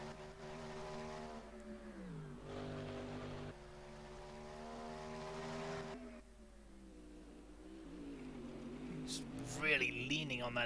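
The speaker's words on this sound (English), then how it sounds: "You can hear from the down changes, the downshift I should say." A GT3 race car engine in rFactor 2 at Bathurst, with strong harmonic engine tones stepping down through several downshifts under braking, fairly loud and continuous, with a commentator talking over it throughout.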